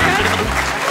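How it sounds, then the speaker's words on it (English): A live theatre audience at a Leicester Square Theatre comedy podcast recording breaks into applause for a guest, a short loud burst of clapping with a voice sounding over it. "will you please give a massive round of applause to my guest, Sarah Millican, ladies and gentlemen?"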